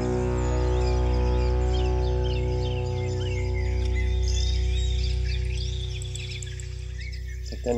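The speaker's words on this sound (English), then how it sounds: "And the birds came out, which means it stopped raining." Several birds chirp and tweet in scattered calls after rain, fairly close and clear above a steady low hum and drone that runs throughout.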